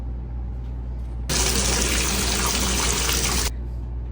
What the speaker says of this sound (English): Now it's time to wash this, rinse this out